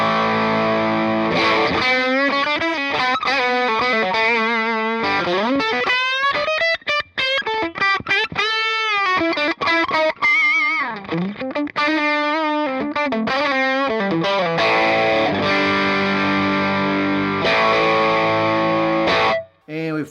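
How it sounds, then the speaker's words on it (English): An electric guitar on its bridge pickup, with a little overdrive, runs through a Fender Blues Jr amp, playing expressive bent and sliding notes with gritty sustain, close and loud, over about twenty seconds with brief gaps between phrases. "Put a little overdrive on the bridge, sounds like this."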